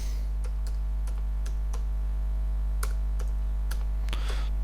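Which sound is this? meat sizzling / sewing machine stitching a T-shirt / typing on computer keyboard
typing on computer keyboard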